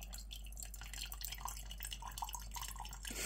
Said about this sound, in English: Water going everywhere.